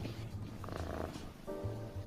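A cat purring close by, a low rhythmic rumble that pulses steadily under a faint voice.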